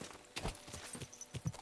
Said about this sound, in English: we're going to get onto our horse